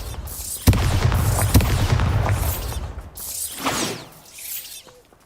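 Bombarda spell explosion in the Hogwarts Legacy video game: a sharp crack followed by a second impact, then crumbling, clattering debris and magical whooshes that fade toward the end.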